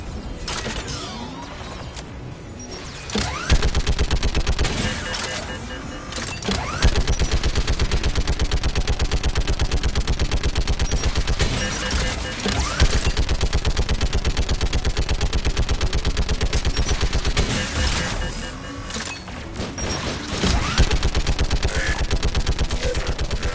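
Geth turret firing in Mass Effect 3, a dense, unbroken automatic barrage that stays loud and close for over twenty seconds, rattling with mechanical clatter and only brief dips in intensity.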